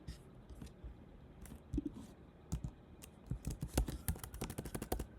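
Typing on a computer keyboard: soft, irregular key clicks close by, sparse at first and then coming in a quicker patter toward the end, quiet overall with no talking.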